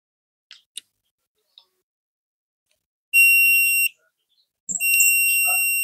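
A digital multimeter gives a continuity beep while testing a DC fuse. After a few faint clicks from the probes, two steady high-pitched electronic beeps sound, the second running to the end.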